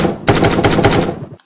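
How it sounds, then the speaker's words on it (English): Rapid automatic assault rifle fire from a Minecraft Crafting Dead mod game, a loud, dense burst of evenly spaced shots lasting about a second before cutting off. "It is pretty satisfying to shoot and has virtually no recoil"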